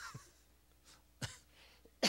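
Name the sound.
cough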